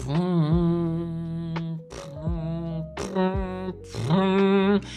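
A voice mimics a trumpet with buzzy, brassy sustained notes in several loud phrases separated by brief gaps.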